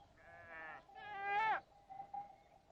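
Goats bleating near Petra in the desert: two clear, wavering bleats in quick succession, the second louder and longer, followed by softer fainter calls with little else around.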